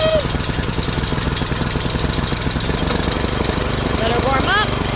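A Benchmark reverse rotary tiller engine runs after a pull start, chugging with a fast, even knocking rhythm up close; a voice talks over it briefly near the end.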